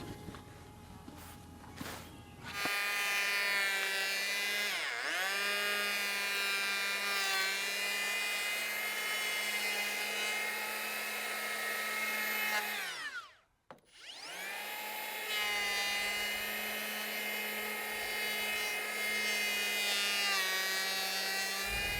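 A power planer runs steadily through a warped wooden board, a loud sustained whine with harmonic tones that dips briefly as the cut pauses around the middle and then resumes.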